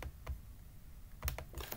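Someone types a new folder name on a computer keyboard: a few quick, close key taps in two small clusters, light and clicky against a quiet room.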